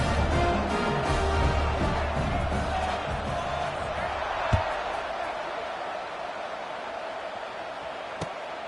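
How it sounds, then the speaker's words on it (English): Football stadium crowd at an Auburn versus BYU game, a broad steady roar and murmur filling the space, with a couple of brief sharp thuds standing out partway through. "this crowd is buzzing after that last score"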